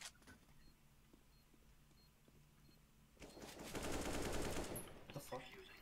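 Rapid video-game gunfire bursts loudly from about three seconds in, a dense rattling volley over a quieter start with faint background game noise.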